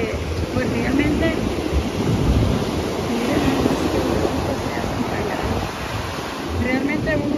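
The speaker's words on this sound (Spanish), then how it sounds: "Miren qué bonito es lo del mar" Ocean waves wash onto a beach in a continuous, moderately loud surf roar that swells and eases, with some wind noise.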